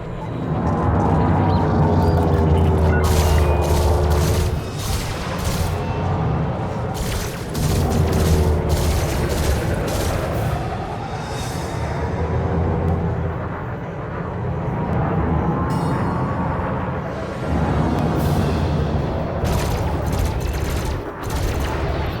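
Packhound missiles in a space combat game, launched in steady waves with whooshing streaks and rumbling explosions over a constant loud engine drone, repeating throughout.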